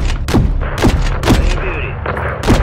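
An aircraft gunner fires heavy rounds in the Call of Duty Modern Warfare III video game, with about five loud, booming shots spaced roughly half a second apart, each thudding up close.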